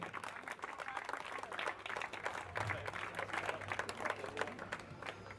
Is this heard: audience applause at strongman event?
yes